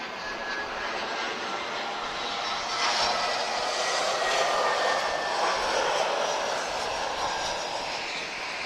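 A heavy jet airliner departs at Lisbon Airport, its engine roar broad and sustained at a distance, swelling slightly midway with no talk.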